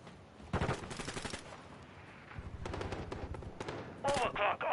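Light machine gun fire in the video game Modern Warfare II, in loud rapid bursts that start and stop across the moment, with someone talking over parts of the shooting.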